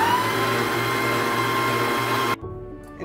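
Electric mixer whirring steadily through cake batter for a vanilla cake, a loud continuous motor drone with a faint high whine, cutting off abruptly near the end and leaving quiet kitchen clatter.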